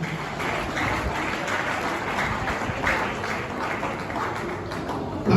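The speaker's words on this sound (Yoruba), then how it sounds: "Ẹ pàtẹ́wọ́ ìtòlẹ̀ náà." An audience claps in steady, continuous applause, dense and fairly loud, holding the same level for several seconds with a slight swell at the end.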